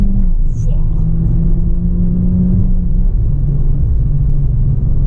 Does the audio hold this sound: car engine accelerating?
yes